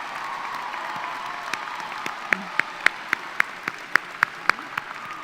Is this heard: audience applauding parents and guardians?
yes